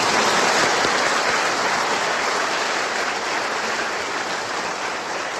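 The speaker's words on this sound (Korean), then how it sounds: "우리 젊은 분들 박수로 환영합니다." Congregation at an Easter Vigil Mass in a large church applauding to welcome young people, a dense, steady wash of many hands that fills the hall, loud throughout without voices.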